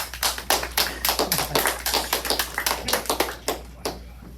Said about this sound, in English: A round of applause for Corey Bedell.